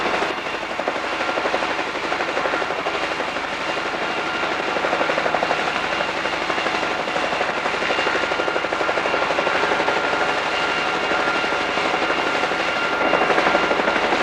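Helicopter flying along a coastline, its engine and rotor producing a loud, continuous, steady drone that swells slightly as the aircraft draws nearer.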